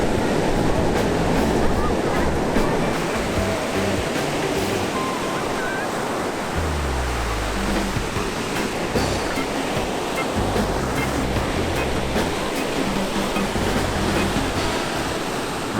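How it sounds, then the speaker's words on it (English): Ocean surf breaks steadily on a Nova Scotia beach, a continuous loud wash of waves with heavy wind buffeting the microphone. "Beginner waves."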